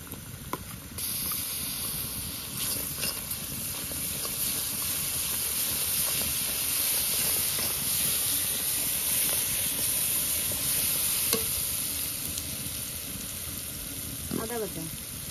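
Garlic paste frying with onions in hot oil for a chicken curry, giving a steady, loud broadband sizzle and hiss that runs the whole time with little change.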